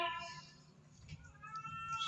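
A cat meows nearby, a short tonal cry at the start and another near the end, with faint background murmur between.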